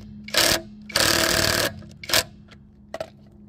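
An Amazon clone of a Milwaukee M12 stubby impact wrench with a 3/4 inch anvil fires in short bursts, loud close hammering rattles of varying length separated by brief pauses, ending with a few quick clicks.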